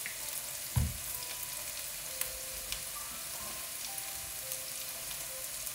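Oil sizzling and crackling in a pan as shallot and ginger are stirred in, a steady close frying hiss with a few soft clanks and no talking.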